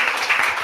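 An audience at an education and health congress seminar breaks into a brief burst of applause, dense clapping heard for well under a second.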